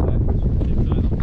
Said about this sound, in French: Ça va Théo, les cheveux dans le vent?